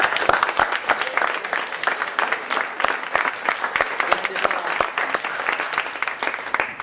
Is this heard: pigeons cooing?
no